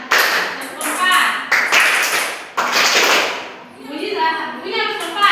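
Sharp hand claps in a classroom, several strong claps in a row with bursts of children's voices between and after them, loud and close.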